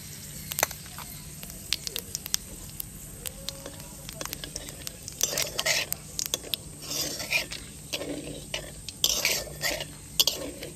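Whole cumin seeds and a dried red chili fry in hot oil in a pan, giving a faint crackling sizzle with sharp pops and spatters that grow busier, while a utensil scrapes now and then.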